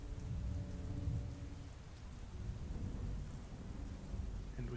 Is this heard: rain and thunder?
yes